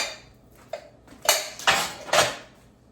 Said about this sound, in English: Let me move these bowls out of the way